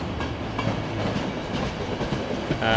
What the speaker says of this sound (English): So these are your standard ÖBB InterCity trains.